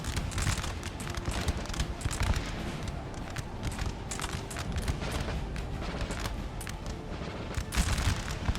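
Skirmishers firing muskets in the video game Napoleon: Total War, a scattered, continuous crackle of shots with occasional louder booms over a constant battlefield rumble.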